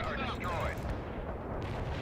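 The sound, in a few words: battleship Missouri firing its cannons in World in Conflict video game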